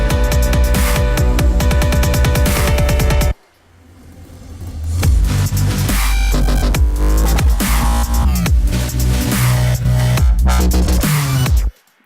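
A loud dubstep drop built in DJ TriCaster, with dense, gritty bass and rhythmic hits, stops for a brief gap and then slams back in at full volume.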